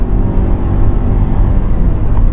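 2014 Nissan Rogue engine at full throttle in sport mode, a loud continuous droning roar from inside the cabin as revs hover between about 5,000 and 6,000 RPM.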